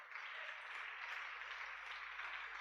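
A church congregation applauds during a sermon, producing a soft, steady wash of clapping heard at a distance, even in level, with no voices over it.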